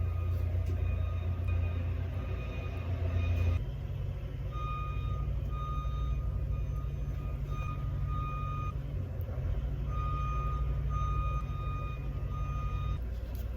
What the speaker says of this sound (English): Now there's like a truck beeping.